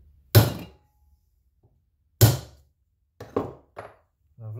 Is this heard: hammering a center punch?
yes